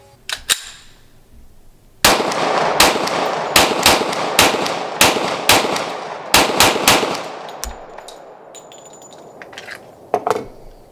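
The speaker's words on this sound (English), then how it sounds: "I was shooting at 50 yards with the Vortex Venom sight" Sharp pistol shots ring out from a Glock 40 MOS 10mm fired at 50-yard targets, a dozen or so loud, close cracks in an uneven, fairly rapid string, each with a brief echoing tail, plus a few fainter pops.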